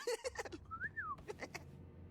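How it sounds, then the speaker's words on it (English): A single rising-then-falling whistle through a sleeping cartoon character's teeth, thin and fairly soft, between short bleating-like vocal sounds and faint breathy noises. "Those weird teeth of his make him whistle."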